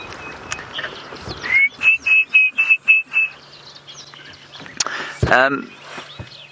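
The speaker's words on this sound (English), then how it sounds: "That was the orange-breasted bushshrike." An orange-breasted bushshrike gives a run of about seven clear, evenly spaced whistled notes, followed by a short harsh call, over a busy background of other birds and insects at sunrise on safari.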